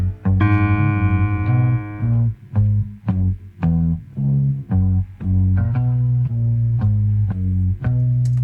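An isolated bass line from a song, played alone with no other instruments. Round, loud notes move from short bouncy staccato plucks into smoother connected phrases, with a steady melodic pulse throughout.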